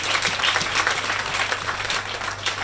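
A church congregation applauds during a worship service, giving a steady, dense wash of many hands clapping together at fairly close range without a break.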